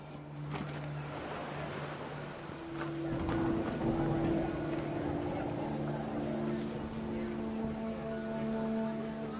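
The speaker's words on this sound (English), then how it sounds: "The rain came down in buckets then" Steady rain from the game What Remains of Edith Finch, a dense continuous patter that swells slightly midway, with low tonal music or ambient hum running beneath it.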